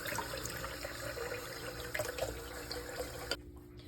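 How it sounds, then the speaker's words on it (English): Water runs steadily into cups, a continuous close splashing trickle that ends abruptly near the finish, with no talk. "I put a 3rd cup of water in each of these."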